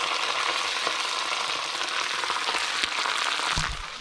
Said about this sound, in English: our bacon here is getting nice and crispy, and it's gonna continue to cook